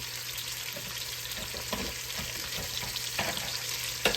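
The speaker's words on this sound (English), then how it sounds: "I just want to get a good sear on both sides of the meat" Beef sears in a hot pot with a low, constant sizzle and a few faint shifting crackles, ending in a brief sharper clink, close but quiet, no one speaking.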